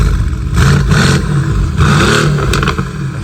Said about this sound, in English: it's spooling. You can hear the turbos.